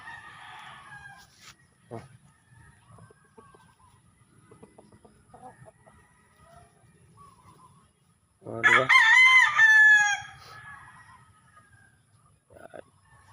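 A rooster crows loudly once, a long harmonic cock-a-doodle-doo, while hens cluck softly and scratch around in the background at a small poultry farm.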